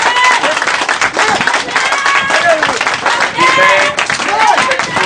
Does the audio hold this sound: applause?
yes